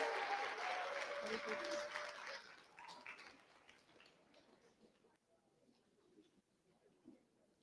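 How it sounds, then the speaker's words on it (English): An audience at an African youth digital festival gives a round of applause, dense clapping at first that fades into scattered claps and quiet room noise. "Can we please give them a round of applause?"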